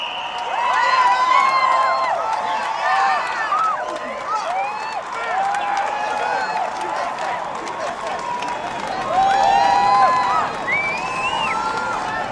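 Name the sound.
capacity crowd cheering at a swimming center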